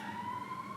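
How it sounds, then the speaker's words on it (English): Emergency vehicle siren wailing in a steady, sustained tone at moderate distance, fairly faint, with no talk. "The sirens are coming because this is ridiculous."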